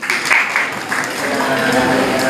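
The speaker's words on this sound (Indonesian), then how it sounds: "Tepuk tangan untuk kelompok 2." Participants in a small business digitalization workshop applaud group 2, a brief rippling round of clapping with voices talking over and around it.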